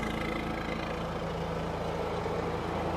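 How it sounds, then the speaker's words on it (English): A Honda EU7000is generator runs in a ventilated shed enclosure with its fan on, giving a steady, even engine drone and broad airy hum at close range. "as you can see, the fan kicks on. It's blowing out all the hot air and the exhaust."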